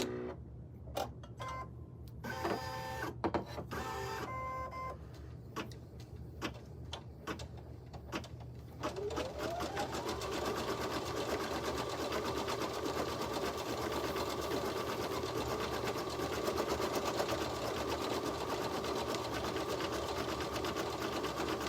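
An embroidery machine stitches a notebook cover held in the hoop, first with scattered clicks and short bursts, then settling into a steady, continuous close-up mechanical whir with a constant rhythmic drone.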